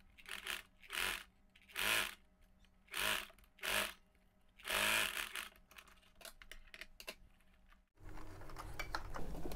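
A sewing machine stitches along a fabric edge for a mermaid-style dress, running in about five short, even whirring bursts with pauses between them. The final seconds turn to softer rustling and handling noise.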